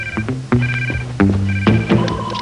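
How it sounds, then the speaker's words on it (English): A cartoon phone hidden in a pair of sunglasses rings with bright, repeating electronic trill bursts, loud and close, sounding several times in a steady pattern. "James, I believe your sunglasses are ringing."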